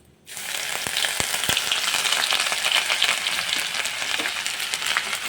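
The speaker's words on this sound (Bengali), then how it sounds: "আদা কুচিটাকে হালকা একটু ভেজে নেব" Chopped ginger frying in oil with panch phoron, red chilli and bay leaves, giving a loud, steady, close sizzle that starts abruptly and holds with crackling pops throughout, with no talking.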